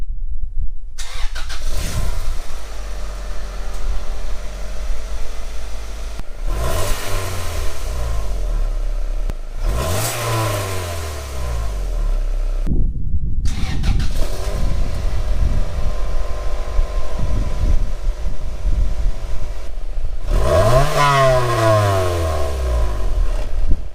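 An Integra's engine with an upgraded exhaust pipe cranks and fires up several times, each start catching into a throaty idle with short revs, then dropping away before the next, loud and close with no talking.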